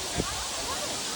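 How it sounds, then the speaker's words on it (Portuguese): A waterfall at Serra Morena gives a steady, broad roar of rushing water, with a brief voice sound near the start. "a família Adams, ela veio pra cachoeira."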